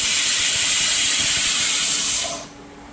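A small pressure cooker on the stove vents steam through its whistle in a loud, steady hiss lasting about two and a half seconds, then abruptly cuts off.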